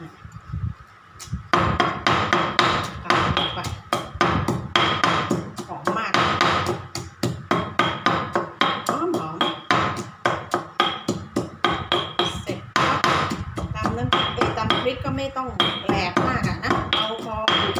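Chilies pounded in a mortar for Thai nam prik, a rapid, steady run of close wooden thuds repeating for many seconds, with someone talking over the pounding.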